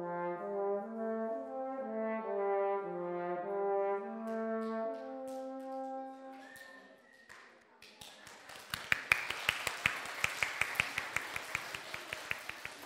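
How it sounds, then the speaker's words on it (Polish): A French horn plays a short series of sustained, mellow notes up close at a chamber concert for preschoolers, followed by a stretch of sharp taps and clicks. "Teraz możemy, wpatrując się w instrument, obserwując, jak można wydobywać z niego dźwięk, słuchać waltorni."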